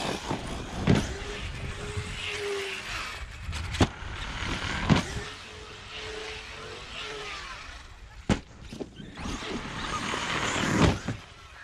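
An ARRMA Kraton 8s EXB RC car on Masher X tires races outdoors, its electric motor whining up and down in repeated bursts, with sharp thumps and clatter from jumps and landings.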